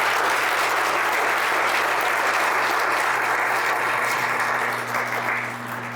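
Dense, steady audience applause fills a Republican Party gathering from start to finish over a low constant hum, easing slightly in the final second.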